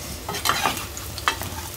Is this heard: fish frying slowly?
yes